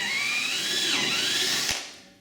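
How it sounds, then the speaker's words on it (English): A 6mm drill bit boring through a tilt-and-turn window frame: a steady high whine from the power drill that briefly bogs down midway, then stops with a short clunk and fades out. "And now we take the 6mm drill"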